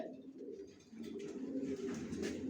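Young racing pigeons coo softly and continuously, with low, rolling throaty calls close by and no voices.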